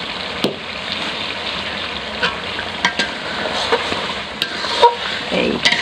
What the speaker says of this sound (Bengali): এই যে মশলা দেয়া শেষ, এখন কষাইতেছি।